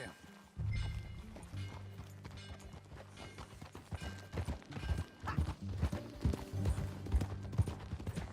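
Steady clip-clop of a horse's hooves from the video game Red Dead Redemption 2, rhythmic and fairly close, set against a low musical score.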